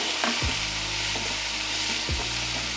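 Chopped tomato sizzles steadily in a hot pan for a Gujarati besan chutney, with a constant frying hiss and two distinct scraping strokes of a spoon stirring the mixture. No one speaks.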